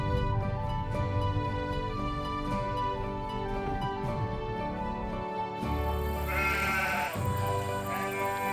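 Sheep bleat beside a single-track road with passing places in the Western Isles of Scotland, with repeated nasal calls close by over a steady, dense background.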